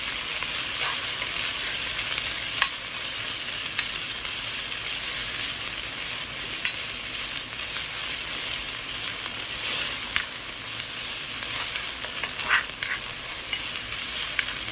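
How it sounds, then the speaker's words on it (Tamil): Tomatoes sauté for chicken sukka in an iron pan: a steady, close sizzle and crackle runs throughout, broken by occasional scrapes and taps of stirring, with no voices. "தக்காளி ஓரளவு வணக்கி விட்டுட்டு நம்ம தக்காளி சேர்த்துக்கலாம்"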